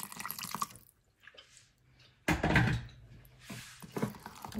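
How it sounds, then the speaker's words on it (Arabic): Water poured into a chicken marinade of oil and spices and then stirred, giving a brief splash and trickling liquid sounds with soft clinks, close and fairly faint in a kitchen. "ندير شويه الماء،"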